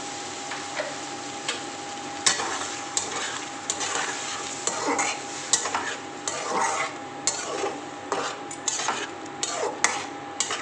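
Spice paste of Kashmiri red chilli powder mixed with water, poured into a pan and stirred, giving a steady soft sizzle with repeated scraping strokes of a spoon against the pan throughout.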